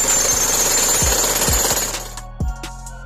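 A jackhammer pounds in short bursts, several heavy thuds under a constant harsh mechanical roar, loud and close.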